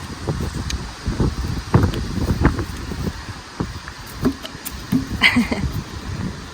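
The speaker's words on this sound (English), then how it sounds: "It's super windy today." Strong gusts buffet an outdoor setting while a feral project horse is worked on a lead rope, roaring in uneven surges with rustling, microphone-battering rumbles throughout and no voice heard.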